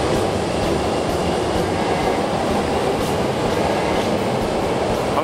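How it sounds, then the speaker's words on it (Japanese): A Hankyu electric train runs past close by, a loud continuous rumble and roar with faint rhythmic wheel clatter, no voices. "阪急電車。"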